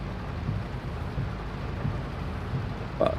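Steady rainfall in Farming Simulator 22 during an olive harvest on the Elm Creek map, a continuous broadband hiss with low rumbling underneath and a brief brighter knock near the end, no talk.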